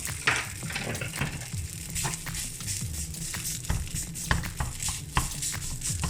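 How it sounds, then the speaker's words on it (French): Plant-based grill strips fry in a hot pan, a steady quiet sizzle with scattered crackles and scraping taps from a wooden spoon. "on va tout simplement la faire tomber dans la poêle chaude"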